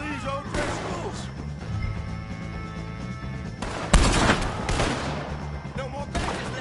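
Gunfire rings out as O'Driscoll gang members are shot in Red Dead Redemption 2: scattered shots, then a loud close blast and further cracks, with voices talking and shouting throughout.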